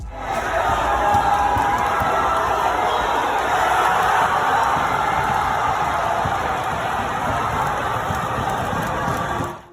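A wrestling crowd at the PWG Mystery Vortex 7 event roars in a continuous, loud wash of cheering and noise that holds steady for several seconds, then cuts off at the end.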